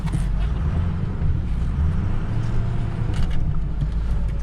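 A 2005 Ford F350 pickup creeping along in four-wheel-drive low range, a steady low engine and drivetrain rumble heard from inside the cab with no talk.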